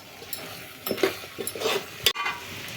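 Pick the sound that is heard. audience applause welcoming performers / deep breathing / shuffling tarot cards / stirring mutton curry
stirring mutton curry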